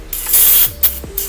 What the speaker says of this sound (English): And I'm going to take a little bit of brake clean.